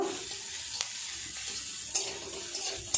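Onions stirred and fried in a pan while preparing a Bengali fish chop, with a soft, steady sizzle and a few light scrapes of the spatula recurring at intervals.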